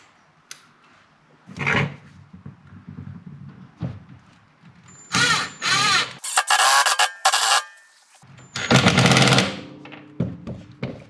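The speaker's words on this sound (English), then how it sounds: "now let's try to put the screw in" A power drill drives a 2.5-inch deck screw into a wooden workbench in several loud whirring bursts, stopping and starting between them, with quieter handling knocks and clatter in the pauses.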